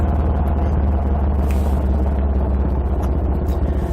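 A motorbike ridden along a country road, its engine a loud, steady, close rumble that continues without a break, with faint clatter on top.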